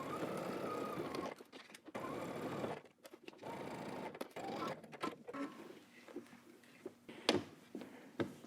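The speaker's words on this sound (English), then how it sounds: "we're gonna go ahead and stitch using 5/8 of an inch seam allowance" A sewing machine stitches a 5/8-inch seam on a garment front in short bursts of rapid whirring, stopping and starting several times, with a few sharp clicks and light handling noises between runs. The sound is fairly quiet, close, and has no talk over it.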